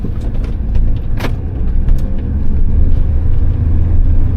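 A car driving along a country-town road near the grain silos, a steady close road and engine rumble with tyre noise that holds constant throughout, no voices.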